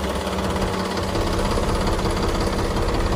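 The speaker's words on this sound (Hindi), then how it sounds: "अब ट्रैक्टर को आगे चलाते हैं।" A tractor drives forward off a trolley bag it has rolled over, its engine a loud, close, steady chugging drone with a rhythmic knock and no talk over it.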